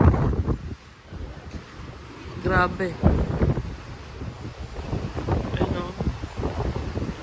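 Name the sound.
strong ocean waves and wind on a cruise ship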